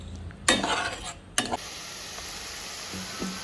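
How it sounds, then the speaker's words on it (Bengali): Spice paste with Kashmiri dried chili powder and a splash of water is fried for a fish roe curry, two loud bursts of hissing sizzle and clatter up close, then a quieter steady frying with occasional utensil taps. "এবারে একটু জল দিয়ে মশলাগুলো ভালো করে একটু কষিয়ে নেব।"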